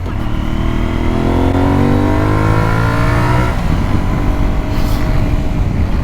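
Aprilia Tuareg 660 motorcycle engine and exhaust while riding, a steady loud drone that climbs in pitch as it accelerates, then settles into a rougher rumble with wind noise.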